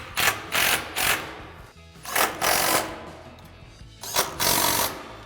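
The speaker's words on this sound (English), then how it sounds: "to tighten these down, we're going to grab our 5mm Allen socket and our 13mm wrench" Bolts on a Westin HDX modular grille guard for a 2015-2020 Ford F-150 are tightened with a 5mm Allen socket and 13mm wrench, giving several bursts of close, loud metallic ratcheting separated by short pauses.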